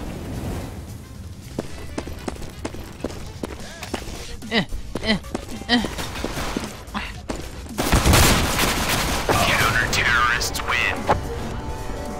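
Gunfire during a competitive video game match comes as a run of sharp, spaced shots followed by a louder dense burst, with a player talking over much of it.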